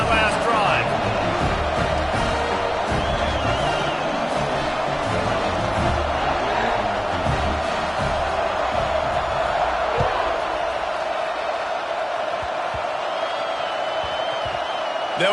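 Stadium crowd roaring in the college football video game NCAA Football 26 during a kickoff between LOC and NC State, a steady loud wash of cheering with a few sharp slams throughout.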